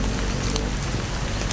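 Heavy rain falls outdoors in a wooded area, a dense, loud, continuous wash of drops with no pauses.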